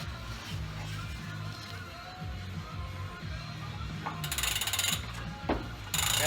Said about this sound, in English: I got the ratchet on the back side of this thing, so I can use the wrench as a ratchet until it's too loose